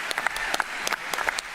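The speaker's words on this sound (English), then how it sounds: "They're applauding for the criticism of Trump." A church audience applauds steadily at a Trump event in Dallas, a dense patter of clapping hands heard at moderate distance, with no voices over it.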